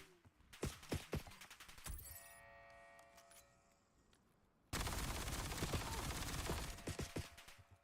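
Automated sentry turrets firing in the video game Overwatch, sharp rapid gunfire bursts with metallic mechanical clatter, a pause with whirring tones, then a sustained loud stream of shots.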